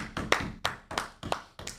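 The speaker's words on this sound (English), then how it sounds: "Let's give Anthony Brown a virtual round of applause." A virtual applause sound effect fires at the press of a button, giving a sparse run of about six crisp, evenly spaced hand claps, fairly close and clear with nothing else around them.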